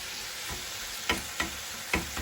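Steady crackling sizzle of bacon frying in a pan, with a few louder pops and clinks standing out over the continuous hiss.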